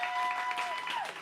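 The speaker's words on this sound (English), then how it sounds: "Please give them a round of applause as well." Audience applause at a live spoken-word poetry show, a steady wash of clapping throughout with a sustained tonal whistle or feedback line riding over it.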